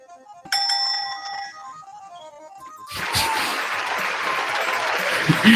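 The $100,000 Pyramid game show opening sound effect plays a quick bright chiming jingle that gives way to a loud, sustained burst of crowd applause.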